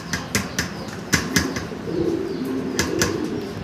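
Pigeons on a farm, kept in cages, flap their wings in a series of quick, sharp bursts, some close together and some spaced apart, fairly near and loud over a low background hum.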